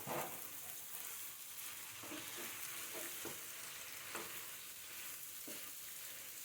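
Long beans (kaikka sim) fry in a pan with a steady, even sizzle, broken by a few soft scraping stirs, heard close up with no talking.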